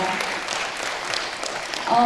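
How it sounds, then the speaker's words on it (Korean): Brief applause from an audience in a university lecture hall, a steady wash of clapping at moderate loudness that continues throughout the short stretch. "다시 한번 오승현 이사님 큰 박수로 감사 인사 좀 보내주시길 바랍니다."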